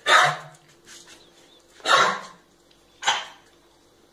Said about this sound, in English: let's watch this little video to see what a cough sounds like.